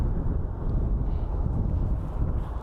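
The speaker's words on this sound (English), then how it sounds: "It's windy out here, guys. Super windy." Strong gusting wind at Phoenix Sky Harbor International Airport rumbles steadily against the microphone, a loud, low, continuous buffeting with no voices.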